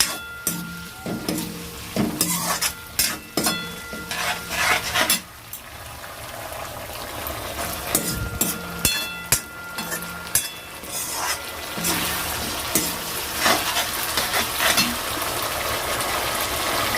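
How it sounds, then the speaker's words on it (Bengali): Food with garlic paste sautéed in a pan: repeated scraping stirs, some sharp and some softer, over a continuous sizzling, bubbling hiss that runs close and steady throughout, with no voices. "ভালো করে কষাতে হবে।"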